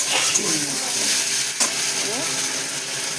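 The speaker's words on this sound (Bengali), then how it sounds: "দিয়ে দেবো একটু আদা বাটা, দিয়ে একটু নাড়াচাড়া করবো।" Ginger paste stirred in a hot frying pan while cooking a prawn and greens dish, steady sizzle and hiss with a few soft scraping strokes of the spatula against the pan.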